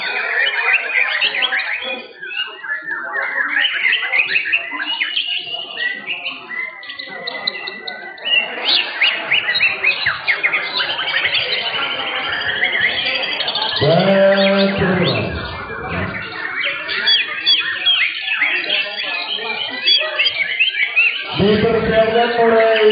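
White-rumped shamas (murai batu) singing at a songbird contest, bright rapid warbles and whistles piled up from several birds, with an announcer talking over the chorus.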